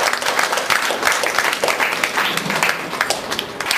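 An audience claps together at a talk in a Varasiddhi Vinayaka temple, producing dense, loud, steady applause that carries on without a break.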